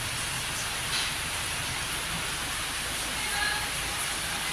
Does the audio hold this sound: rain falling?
yes